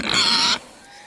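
A pig lets out a loud, drawn-out squealing grunt for about half a second, then only quiet background remains.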